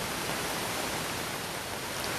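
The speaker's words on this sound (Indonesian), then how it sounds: "Banjir bandang." Flash flood from the overflowing Cibuntu River in Sukabumi after heavy rain, heard as a steady, loud, broadband roar of rushing water throughout with no voices.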